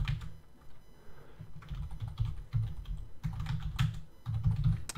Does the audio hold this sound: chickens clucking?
no